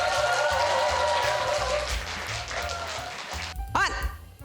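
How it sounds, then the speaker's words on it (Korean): An audience at a Sejong community best-practice presentation event applauds to welcome a volunteer firefighter presenter, a steady wash of clapping layered over rhythmic background music with a brief tonal flourish near the end. "여러분 큰 박수 부탁드리겠습니다"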